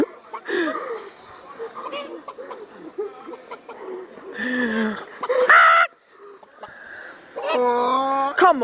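Loud, close clucking and squawking from a man imitating a chicken comes in irregular bursts, with breathy pauses and voices between them.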